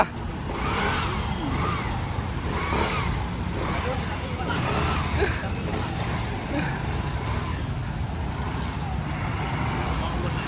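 A new Aprilia SR GT200 Replica scooter engine runs and revs in loud, steady surges close by, with a rough drone and faint voices underneath.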